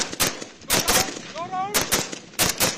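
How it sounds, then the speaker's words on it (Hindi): A rifle shot fired at a 500 m figure 11 target on a BSF desert range near the India–Pakistan border: sharp, loud gunfire cracks in quick succession, with a brief whistling tone between them and outdoor echo. "500 metre, figure 11 target, single shot, fire"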